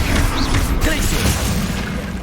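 A Glacius ice spell is cast in the Hogwarts Legacy video game: a dense, crackling burst with rumbling low thuds, steady and loud throughout amid other game effects.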